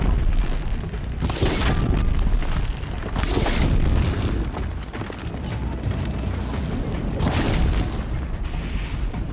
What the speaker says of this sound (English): Explosion number one, go.